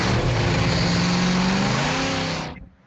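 Muscle car exhaust revving hard with a loud, continuous throaty roar that climbs in pitch, then cuts off abruptly near the end, heard in a radio ad for exhaust work.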